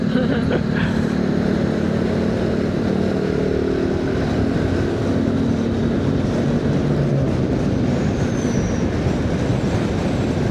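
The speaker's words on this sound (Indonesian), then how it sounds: "Ada bus Sinar Jaya di depan kita sekarang, lagi di Wonosobo aja." Sinar Jaya intercity, interprovincial bus running ahead on the road in Wonosobo, heard as steady continuous road and engine rumble from a moving vehicle, fairly loud with no talk.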